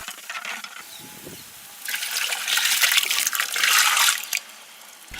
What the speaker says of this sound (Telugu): పులుసు తీసి ఇందులో పోసుకుందాం